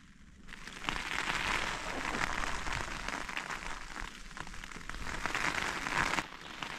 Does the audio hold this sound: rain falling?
yes